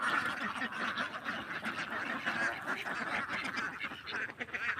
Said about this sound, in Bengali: বারোশো পিস ডিমের হাঁস আছে